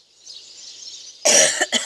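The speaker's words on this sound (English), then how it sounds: "Still got this awful cough." A single sharp cough close by, followed by a short second cough, after a moment of faint hissy breathing.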